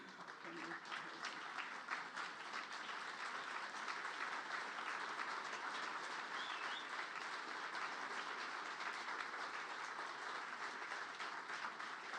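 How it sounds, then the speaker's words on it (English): Sustained applause from a large audience at a 2016 award ceremony, a dense, steady wash of clapping that fills the whole stretch at even loudness, with no clear voices. "I think it deserves a standing ovation"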